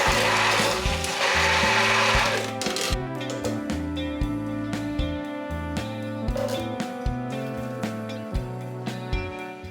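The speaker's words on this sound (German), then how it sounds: "Das wird jetzt mit dem Pürierstab gut gemixt." An immersion blender whirs in a bowl of marinade made with lemon juice and honey, starting with a loud churning burst, then running in repeated stop-start pulses with a steady motor whine.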